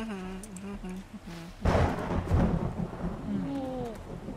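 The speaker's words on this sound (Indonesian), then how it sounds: "Hujan deras." In the video game 7 Days to Die, heavy rain and thunder break in with a sudden loud crash partway through, then a steady rumbling downpour, with game music and faint tones around it.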